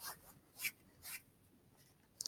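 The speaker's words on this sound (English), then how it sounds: "You press the tape down so when you get out on the ice or anything, it doesn't come apart" Hockey stick tape is pressed down and smoothed by hand, making a few soft, brief rubbing swipes with short gaps between them. The strokes are very quiet and close.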